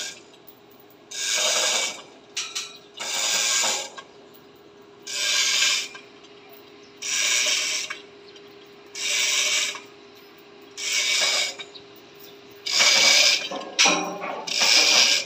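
Screws being tightened on roof trusses during construction: a rasping, ratcheting whir comes in about eight regular bursts, each roughly a second long with short pauses between, close and fairly loud.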